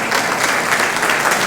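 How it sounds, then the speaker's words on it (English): Audience applause at the Washington Informer's 50th anniversary celebration at the Carnegie, a brief, steady burst of many hands clapping together, close and full. "let's give a round of applause for B."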